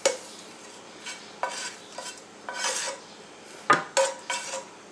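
Käsknöpfle noodles mixed with cheese and onions in a large bowl: a series of close scraping and clinking utensil strokes against the bowl, arriving in irregular bursts with short pauses between them.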